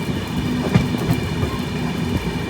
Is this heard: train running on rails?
yes